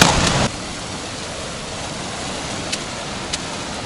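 A glacial river rushes in a dense, steady roar of water near a snow bridge on a mountain approach, loud and continuous with no voices.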